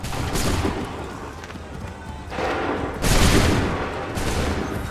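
A volley of musket gunfire in Assassin's Creed 3, fired in a battle. Ragged rolling bursts of shots crash in two or three waves over several seconds, loud and close, with the crackle trailing off between them.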